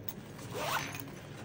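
Zipper on an Alpaka gear tech pouch being pulled open in one smooth, close rasping stroke lasting about a second, with no talking.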